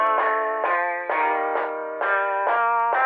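A chopped guitar sample loops over boom bap drums, thickened with effects and EQ in a hip-hop beat, loud and steady, with repeating bursts about every half second and no talking.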